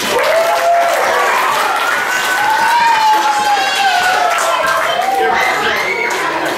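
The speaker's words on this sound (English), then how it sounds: "Give her a big round of applause." Applause and cheering from a vacation Bible school audience, a steady wash of clapping and crowd noise with children's voices rising over it throughout.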